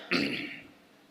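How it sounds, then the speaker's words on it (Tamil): A man clears his throat once with a short rough cough during a Tamil sermon, close and moderately loud, then trailing off into quiet. "நான் அப்பப்போ இருமுவேன்"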